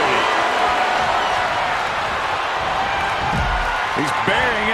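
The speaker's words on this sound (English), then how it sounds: "The sound of this crowd is deafening, and he's asking for more." The arena crowd in the wrestling video game WWE 2K22 roars as a steady, loud, continuous din, with a commentator talking over it.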